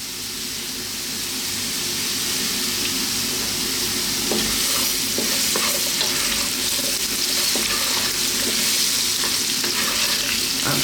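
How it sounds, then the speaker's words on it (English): Frying potatoes hiss loudly in a pan as cumin seeds, salt and black pepper go in, producing a dense, constant close sizzle with scattered stirring scrapes and no voices. "We're now going to add in those cumin seeds, some salt, and some black pepper."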